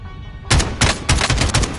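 Gunfire in the video game Call of Duty: after a quiet start, loud close bursts of rapid automatic shots ring out in several clusters, alone without talk.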